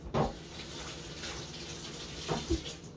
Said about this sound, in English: I'm going to go rinse off a couple of cherry tomatoes.